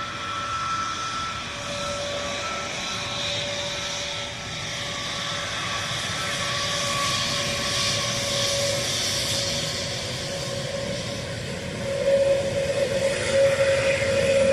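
A Finnair airliner lands at Dublin Airport, its jet engines a steady, distant roar with a faint whine that swells slightly toward the end.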